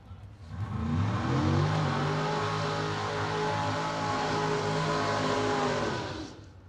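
A door car roars down the drag strip at a bracket racing event, its engine building into a loud, sustained howl that holds steady for several seconds before quickly fading.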